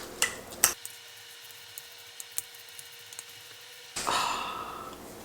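Frank's Red Hot buffalo sauce is worked into food by hand, making sparse soft squishes and small clicks over near silence, then a louder, fuller burst of wet mixing near the end.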